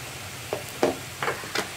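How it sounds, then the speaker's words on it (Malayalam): Koorka (Chinese potato) and egg with crushed chili are stirred in a frying pan, a quiet sizzle broken by four short scraping strokes of the spoon in close succession. "ഇനിയിപ്പോൾ ഇതൊന്ന് ഇളക്കി കൊടുക്കുക നന്നായിട്ട്."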